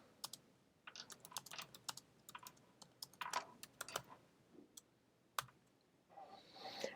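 Keys clatter in an irregular run of quick clicks as a question is typed on a computer keyboard, close and fairly quiet, with no voices.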